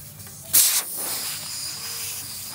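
Air escapes from a tire valve stem in a sharp, loud hiss that bursts briefly, then settles into a softer, steady hiss close by, with no one speaking.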